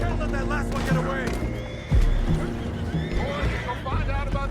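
Horses neighing and whinnying in Red Dead Redemption 2, loud and close, mixed with hoof clatter, a thump and busy game noise while voices talk over them.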